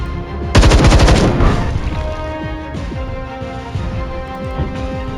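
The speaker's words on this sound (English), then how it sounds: "We'll fire at it as we move away." Video game gunfire from a turn-based tactical battle: a loud burst of rapid shots fires for about a second, then scattered sharper reports and crashes keep sounding over a steady game music and ambience bed.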